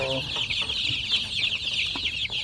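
Young chicks on a poultry farm cheep and cluck steadily and close by, a dense, high, continuous chorus with a few brief low bumps and no talking.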